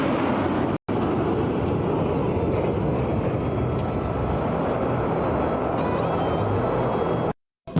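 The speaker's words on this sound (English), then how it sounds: "Rafale, omnipotent 4++ generation fighter aircraft of the Indian Air Force" A Rafale 4++ generation fighter jet of the Indian Air Force roars past in a Republic Day flypast over Kartavya Path, a loud, steady broadband jet rumble that holds throughout.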